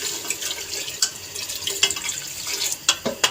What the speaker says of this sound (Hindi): अब मैं डालने लगी पानी।